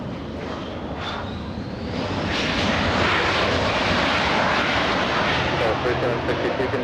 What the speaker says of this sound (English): we have the little E-175 flying in from San Jose